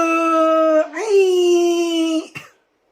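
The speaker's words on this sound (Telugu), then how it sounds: "కుక్కు." A dog howls up close in two long, loud, drawn-out wails, then falls silent.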